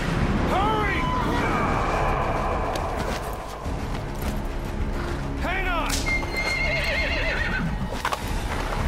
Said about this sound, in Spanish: Ahora viene un caballo.